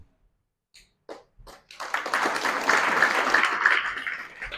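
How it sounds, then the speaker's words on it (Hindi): An audience at a talk breaks into applause, starting with a few scattered claps, then swelling into steady, full clapping from many hands that continues to the end. "दुर्योधन के लिए बहुत लोग ताली बजाते थे, जैसे आप लोग ताली बजा रहे हैं"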